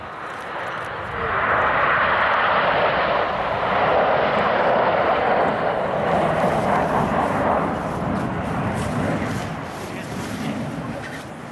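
Red Arrows BAE Systems Hawk T1 jets fly past in formation at an RAF air display, a loud swelling roar that peaks and slowly fades while a commentator talks over it.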